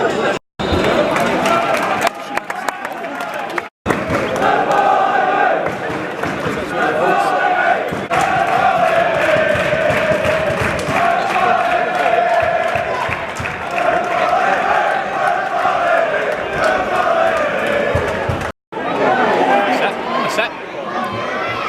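Football crowd at Broadwood Stadium during a Clyde versus Edinburgh City match: a continuous roar of chatter and shouting that swells with the play, with commentary over it and brief cut-outs.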